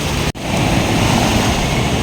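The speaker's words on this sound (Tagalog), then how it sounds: "napakaganda ng dagat talaga nila lakas ng alon" Loud, steady roar of strong sea waves crashing close by, continuous and broadband, with a brief dropout near the start; coast at Governor Generoso, Philippines.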